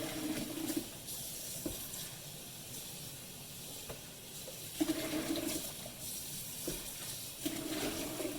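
A Preethi mixer grinder jar is rinsed under a running tap. The water hisses and splashes steadily and close, swelling in two louder bursts as the jar is moved under the stream.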